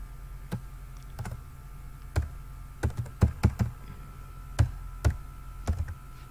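PHP code is being typed on a computer keyboard: crisp, separate key taps and thunks fall in an uneven rhythm over a steady low hum, close and fairly loud, with no one talking.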